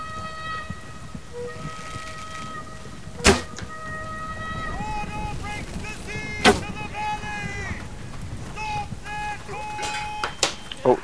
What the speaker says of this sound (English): Oh, someone shooting.